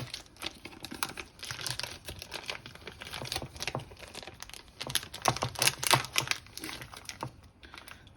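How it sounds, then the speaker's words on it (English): Tesco own brand feta cheese packaging being opened, crinkly plastic rustling and crackling in irregular bursts, close and fairly busy, with a few sharper crackles toward the end. "let's open the Tesco own brand feta"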